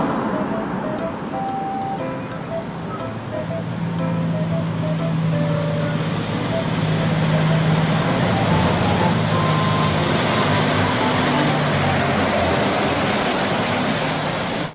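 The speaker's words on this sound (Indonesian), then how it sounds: "ternyata ini mobil truk tangki gandeng" A tanker truck pulling a trailer rumbles past on a road, a broad steady roar that swells in the middle and lingers among continuous traffic noise.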